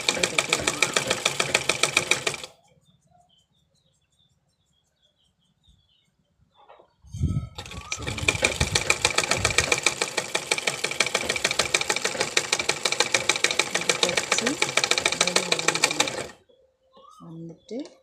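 A sewing machine runs close up, stitching over an existing seam in two long steady bursts of rapid needle chatter, separated by a few seconds of quiet handling.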